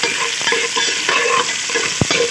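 Beef frying with ginger-garlic paste in a pot while it is stirred, a steady close sizzle with scraping stir strokes and one sharp clack near the end.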